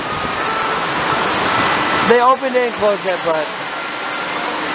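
Heavy rain pours at an amusement park, a dense loud hiss filling the scene steadily, with people talking over it partway through.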